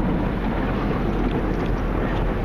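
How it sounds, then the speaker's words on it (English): Cloth curtain of a Motor City Wash Works tunnel car wash passing over the back of the car, heard from inside as a continuous, broad rushing and rumbling wash. "There goes the cloth curtain on the back."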